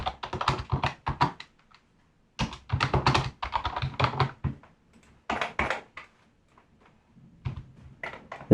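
Keyboard shortcuts pressed on a computer keyboard while working in Blender, heard as clusters of quick, close, crisp key taps in bursts separated by short pauses.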